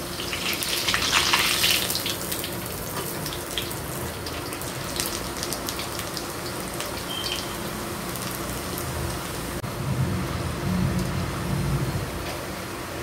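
Butter murukku sizzles steadily as it deep-fries in hot oil, a continuous hissing bubble of fairly even loudness with no voices.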